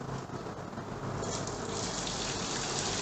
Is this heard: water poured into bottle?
yes